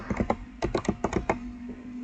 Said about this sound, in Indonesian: Ini kita ketik saja hacker.